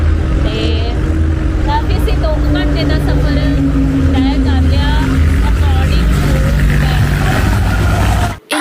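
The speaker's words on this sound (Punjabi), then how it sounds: "ਕਿੰਨਾ ਜ਼ਿਆਦਾ ਰੌਲਾ ਰੱਪਾ ਹੈ ਗੱਡੀਆਂ ਦਾ" Loud, continuous hum and roar of road traffic on a busy mountain-area street, engines droning steadily with passing vehicles, while people talk over it.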